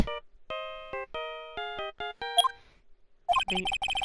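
A phone ringtone plays the Steel Samurai theme in the Phoenix Wright: Ace Attorney video game: a run of bright, evenly spaced electronic notes, then a denser, faster burst of chiming tones near the end.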